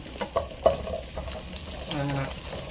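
Onion dropped into hot cooking oil in a pan and stirred, heard as a close, steady sizzle with a few sharp clatters of utensils at the start, a voice speaking faintly underneath.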